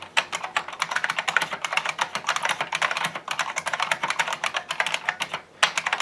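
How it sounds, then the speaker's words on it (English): Rapid, steady typing on a Unicomp Ultra Classic buckling-spring keyboard, each keystroke a sharp, loud click, with dense bursts and one brief pause near the end. "It's very clicky, very much like a Cherry MX Blue switch"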